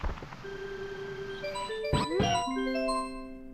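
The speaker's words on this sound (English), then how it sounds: "If we talk to Yoshi from behind, we can get a really long hang" Chiming Mario game jingle, triggered by talking to Yoshi from behind, lingers on a long held opening note before bursting into a quick run of bright synth tones and sliding sounds.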